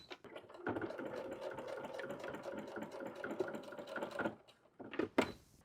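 A sewing machine stitches a D-ring onto a bag made from a dish mat, giving a fast, even mechanical chatter for about four seconds. A couple of brief clicks follow.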